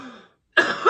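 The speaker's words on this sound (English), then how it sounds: "you wouldn't get the pleasure of hearing me cough every 5 seconds" Two short coughs from a man reviewing an album, one faint then a gap, then a louder harsh cough close to the microphone.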